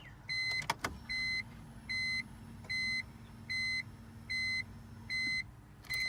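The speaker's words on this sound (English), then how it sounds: "You gotta prime the pump." A BMW E46 with over 200,000 miles has its new fuel pump priming: a steady low hum runs for about four seconds, while a row of regular, evenly spaced electronic chime beeps sounds over it.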